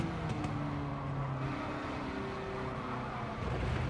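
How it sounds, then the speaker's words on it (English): An engine drones steadily in a racing video game, a constant broadband roar with faint tonal whine that shifts slightly in pitch, sustained and fairly close throughout with no voices. "I don't want to rev it out. I'm going to rev it short."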